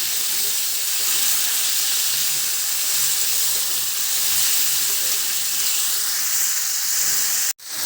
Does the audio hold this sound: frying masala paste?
yes